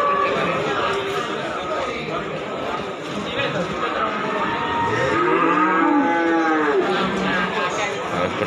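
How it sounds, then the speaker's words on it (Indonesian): Pegon cattle low repeatedly at a busy cattle market in Pati, Central Java, deep drawn-out moos rising over a steady murmur of chatter and nearby voices. "Nah, ini ada datang sapi-sapi pekon ini."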